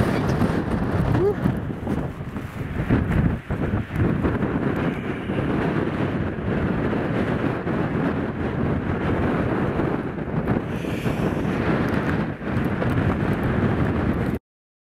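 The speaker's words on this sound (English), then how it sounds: "That wind was nearly blowing us off my feet." Strong gusting wind buffets the microphone outdoors near an old mill and waterfall, a continuous loud low roar with rumbling surges throughout, broken by a few brief dips.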